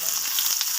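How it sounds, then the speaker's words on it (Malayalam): Mustard seeds crackle and splutter in hot oil in a pan while tempering for sambar, a brief close-up sizzle with a sharp pop at the end. "കടുക് പൊട്ടിയിട്ടുണ്ട്"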